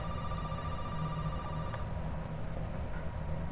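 A telephone rings inside a house in the survival horror game Resident Evil 7: Biohazard, its steady electronic tone running continuously over a low droning ambience, with no talk.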